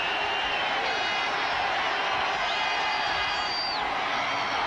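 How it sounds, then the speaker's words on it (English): A restless stadium crowd rumbles at a 1986 49ers vs. Dolphins football game, a constant loud roar of murmuring and scattered whoops with a whistle-like cry rising over it. "Crowd getting a little restless now"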